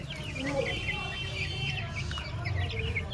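Several chickens of mixed breeds clucking and chirping steadily in a close coop or yard, overlapping calls over a low rumbling background.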